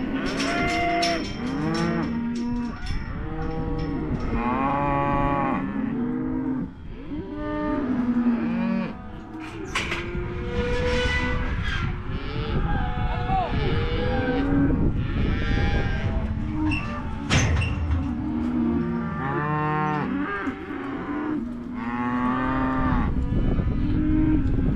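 Cows, bulls and heifers held in farm pens moo constantly, with many loud, overlapping calls near and far forming a dense, unbroken chorus of cattle.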